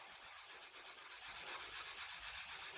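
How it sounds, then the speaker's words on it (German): Hand sanding of a deep scratch in car paint using a Sonax scratch remover set, working a moistened surface in circular motions: a steady, close, continuous abrasive rubbing hiss that swells slightly in rhythmic strokes, with no talk. "es ist wirklich ein Schleifprozess hier"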